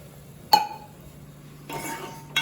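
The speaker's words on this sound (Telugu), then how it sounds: "ఒక 1/2 గ్లాస్ వాటర్" A glass clinks once against the pot, and about a second later half a glass of water pours into the masala curry in a short, rushing splash, close by.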